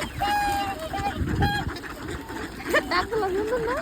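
Ducks eating feed, giving repeated quacks and honking calls up close over a low, rustling background, with a voice speaking faintly underneath.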